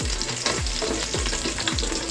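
Ginger and garlic hit hot oil in a pan for Filipino native chicken tinola, giving a constant close, loud sizzle broken by regular low thumps of stirring, with no talking.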